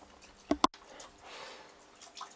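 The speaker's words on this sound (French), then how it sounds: "Et il y a une petite goutte là." A single drip of water from a homemade hydroponic tower lands as two quick close taps near the start, followed by a soft wash of trickling water and faint room noise.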